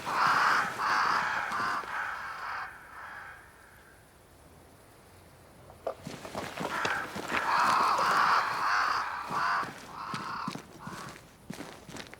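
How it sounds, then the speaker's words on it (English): Crows caw repeatedly in the game Banishers: Ghosts of New Eden, several harsh calls overlapping at moderate distance, with a quieter gap mid-way before the cawing resumes alongside footsteps. "Crows. They flock to that great tree up there."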